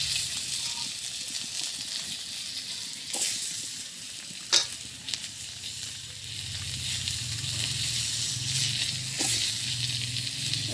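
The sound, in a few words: potatoes frying in oil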